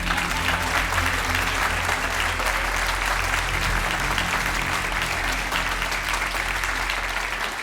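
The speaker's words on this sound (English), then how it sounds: "a massive round of applause for these guys" Large crowd gives sustained, even applause for two semifinal finalists at a Ramadan recitation competition in London, dense clapping at constant volume with no pauses.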